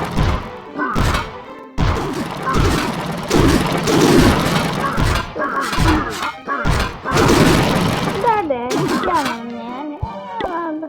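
Bomb explosions go off in the mobile strategy game Clash of Clans as a series of heavy thuds and crashes, with a person talking over much of the action.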